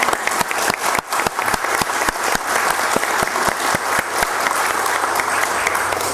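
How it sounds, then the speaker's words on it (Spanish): Audience applause at a Spanish-language citizen security committee meeting, a loud, sustained burst of clapping with sharp individual claps throughout and no talk over it. "Voy a pedir un aplauso para..."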